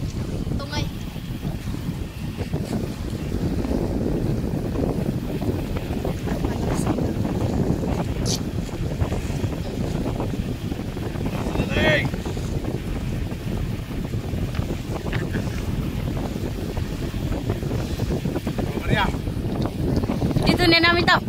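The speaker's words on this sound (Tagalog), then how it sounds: "Ayun na, alis na yung isang bangka" A boat pulls away from Dapdap pier in Allen, Samar, Philippines, a steady low engine rumble mixed with constant wind buffeting the microphone, and voices faint in the background.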